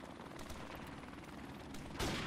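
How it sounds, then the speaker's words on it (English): Gunfire rattles in the shooter game Modern Warfare Remastered as faint, distant bursts crackle under a low background, with a louder shot near the end. "Modern Warfare Remastered, but I shoot the enemy with invisible bullets."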